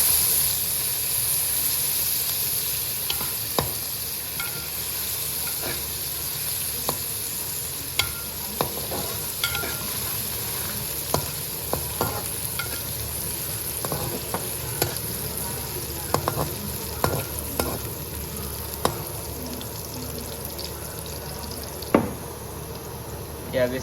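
Browned onion with garlic and ginger paste sizzles in a pan while being stirred, a steady hiss broken by frequent scraping taps of the spoon, recorded up close.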